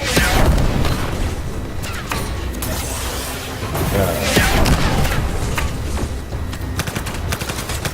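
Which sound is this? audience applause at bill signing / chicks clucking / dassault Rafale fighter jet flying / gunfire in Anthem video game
gunfire in Anthem video game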